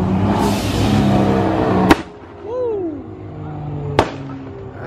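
Firework rockets go off at a car meet, two sharp loud cracks a couple of seconds apart over crowd and engine noise, with a rising whistle-like whine between them.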